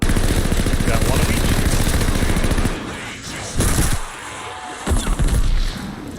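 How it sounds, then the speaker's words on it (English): Zombie exploding in Call of Duty Vanguard's zombies mode amid loud, dense game gunfire, a sustained roar of shots that drops away near the middle, followed by a few sharp bursts and blasts. "So he probably, by exploding there, probably just took out 1 or 2 of the zombies that I needed."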